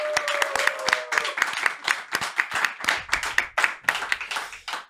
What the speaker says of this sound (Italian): fate un grande applauso ad, ad Andrea, Andrea Batilla